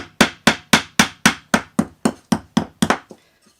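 A hammer beats the edges of a wooden tray to distress it, eleven sharp, loud, evenly spaced whacks in a steady rhythm, close up, then a faint knock and silence.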